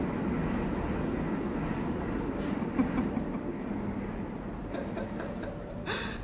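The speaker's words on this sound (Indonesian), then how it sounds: "Dan belum lagi kereta yang akan segera lewat ya." A steady low rumble of a train rolling past fills the clip, with faint clanks and a few brief higher rattles near the end.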